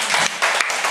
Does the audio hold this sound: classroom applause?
yes